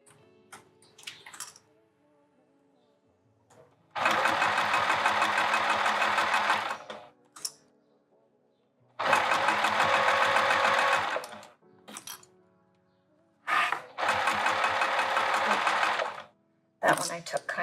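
A sewing machine stitches through vinyl for a handbag in three sustained bursts of rapid, close mechanical whirring, separated by quiet pauses with brief clicks and someone talking.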